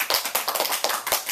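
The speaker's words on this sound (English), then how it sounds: "So they clapped with me" A small group claps together during a live storytelling of The Emperor's New Clothes, sharp uneven claps in a close, brief burst with no talking.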